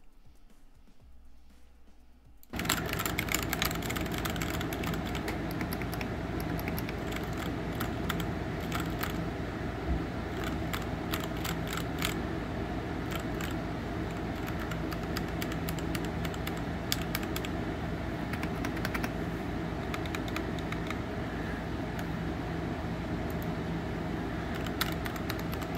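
Steady, rapid typing on an LTC Nimbleback mechanical keyboard fitted with red linear switches, a dense run of close, light keystrokes with no talking, starting after a brief quiet lead-in.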